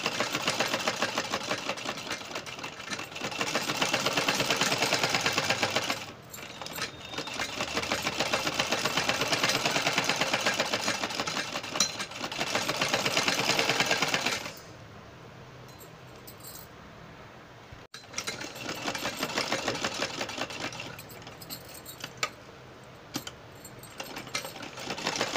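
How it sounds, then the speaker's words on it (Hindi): A sewing machine runs close up, stitching the lace side of a lined half sleeve in long continuous bursts with a steady rapid whir, pauses at about six and fourteen seconds, then stitches again. "और अब हम इस साइड सिलाई लगाते जाएंगे लेस के दूसरी साइड।"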